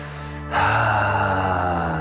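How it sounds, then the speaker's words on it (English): A breathy exhale released as a long, audible sighing "ha" after a brief quiet moment, close to the listener. "Taking a big deep breath in, letting a ha sound out."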